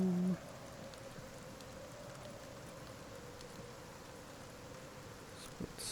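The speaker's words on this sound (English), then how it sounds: "Obviously, it is actually raining." Rain falling steadily in the survival game Icarus, a faint, even hiss that runs unbroken throughout with a soft droning hum beneath it and one brief tap near the end; no voices.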